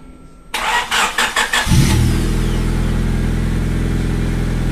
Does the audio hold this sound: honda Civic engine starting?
yes